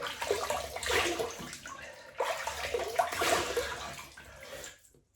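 Water splashes close by as hands wet a face before a shave, two rushing bursts of scooping and splashing that fade into silence at the end.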